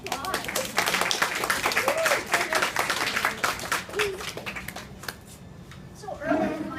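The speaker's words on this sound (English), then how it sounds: "Give them a round of applause." An audience applauds in bursts of clapping at a speaking event, moderately loud and uneven, fading toward the end before a voice speaks briefly.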